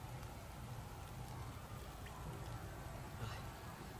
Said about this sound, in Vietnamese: Ui, đang mưa này